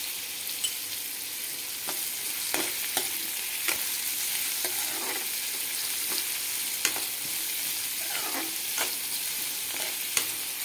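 Onions frying with curry leaves in a hot pan, a constant bright sizzle with occasional scraping stirs and small pops, close and steady, no voices.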